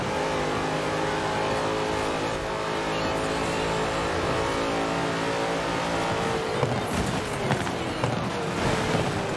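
A Porsche races ahead on a track in Forza Horizon 4, a steady loud engine drone with layered harmonics throughout, rising into a revving, accelerating sweep near the end with faint tire noise.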